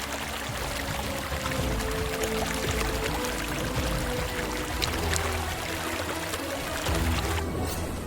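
Steady rushing water of a waterfall or river, a dense continuous roar with splashing detail, loud and close throughout with no break.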